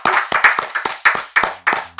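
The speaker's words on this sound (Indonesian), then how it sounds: "tepuk tangan dulu nih" Brisk, close hand clapping from a small studio audience on a dangdut talk show, greeting a guest with about eight sharp, uneven bursts of claps over two seconds.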